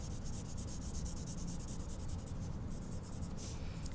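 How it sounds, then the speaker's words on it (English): Blending stump rubbed softly over paper while shading a pencil drawing of a nose, a faint, continuous, close scratchy rubbing with gentle back-and-forth strokes. "you can head into here with the blender and gently touching, just barely rubbing it over the paper."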